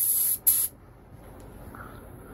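Two short bursts of high, hissing spray from a spray gun applying clear coat sound close up, then quiet background hum.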